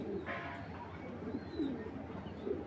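Racing pigeons coo softly in a loft, with a few low, faint calls against quiet background noise.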